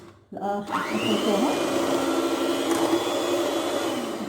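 Electric mixer switching on to whip cake batter for a Nescafe and cocoa cake, whirring up after a short silence and then running as a loud steady motor drone.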